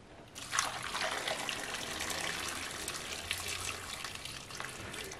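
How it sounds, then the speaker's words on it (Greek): Hot water pours steadily from a kettle over peeled potatoes, courgettes and carrots in a pot, a continuous close trickle and splash lasting several seconds with no talking. "βάζουμε καυτό νερό"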